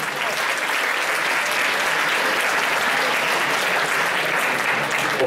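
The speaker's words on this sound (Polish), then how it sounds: "Owacja prawie na stojąco." A school audience breaks into sustained, loud applause for the school's headmistress and deputy head, a near standing ovation of dense clapping that holds steady throughout.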